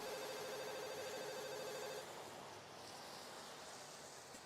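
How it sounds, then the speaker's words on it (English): A soft, steady electronic ringtone from a phone in the Katawa Shoujo visual novel chimes in a repeating pattern for about two seconds, then stops, leaving a wash of quiet background noise. "A familiar soft ringing begins to sound from Lily's side."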